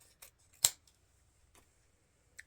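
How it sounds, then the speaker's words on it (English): Scissors trim the ribbon tails of a wreath swag on an Easter door hanger, a few quiet close snips with one crisp louder cut, set in near silence. "now I'm just going to trim the tails at the end of our swag, cutting them at an angle"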